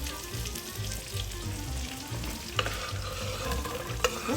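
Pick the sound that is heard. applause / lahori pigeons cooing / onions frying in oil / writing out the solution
onions frying in oil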